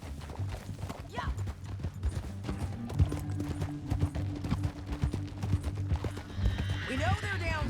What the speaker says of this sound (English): Get back on your horse.